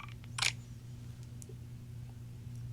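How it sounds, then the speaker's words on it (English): Photo shutter sound from Ray-Ban Meta smart glasses: one short, crisp electronic click near the start, then only a low steady room hum with a faint tick later. "I don't know if I like the photo shutter sound more or not, but it's different."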